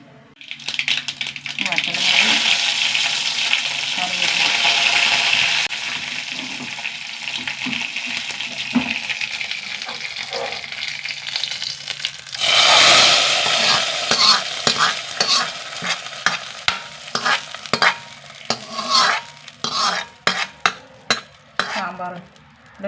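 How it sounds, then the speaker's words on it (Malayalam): Mustard seeds crackle and fry in hot oil in a pan, a steady loud sizzle for the first half, then sharp scattered popping bursts that grow sparse toward the end; no talking over it. "കുറച്ച് എണ്ണ വെച്ച് കൊടുക്കുക ഒന്ന് ചൂടാവട്ടെ കുറച്ച് കടുക്"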